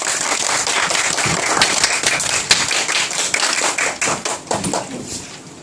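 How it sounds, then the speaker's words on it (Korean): Schoolchildren clap at a school anti-violence event as a student is called up. Close, crisp hand claps with individual sharp strikes stand out, and the clapping thins toward the end. "큰 박수가 필요합니다"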